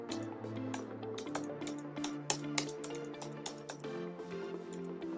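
Rapid typing on a computer keyboard, close and clear, with irregular clicks and key taps throughout over a soft steady hum.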